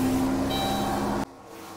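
A car engine idles steadily with a broad, continuous mechanical hum and a faint high whine, then cuts off abruptly near the end, leaving only quiet background.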